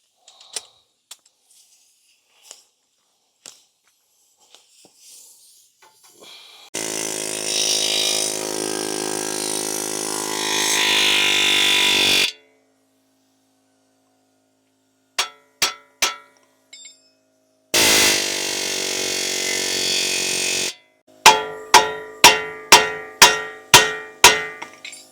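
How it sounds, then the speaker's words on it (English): A pneumatic air hammer works a car's ball joint loose in a repair shop, loud sustained rattling bursts separated by silence, alternating with sharp metallic single hits and a rapid run of ringing impacts at the end. "I need to get that ball joint loose. So I got my air hammer"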